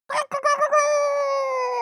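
A voice imitates a rooster crowing, starting with a few choppy syllables and ending in a long, drawn-out cock-a-doodle-doo wail, close and clear.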